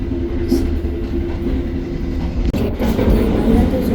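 A steady rumble of the Jayabaya economy train rolling along rails fills the clip, heard from inside a carriage with accordion gangway connections, with faint rhythmic clatter and a low hum.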